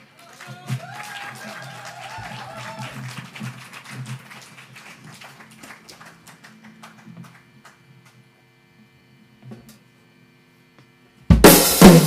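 A small audience at an intimate living-room couch concert claps, the light patter of hands fading away over several seconds into near silence before a sudden loud burst of sound at the end.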